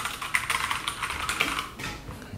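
Close, rapid clicky keystrokes on a Clix x Matrix 60% mechanical keyboard, a quick uneven patter of sharp clicks lasting the whole moment with no voice.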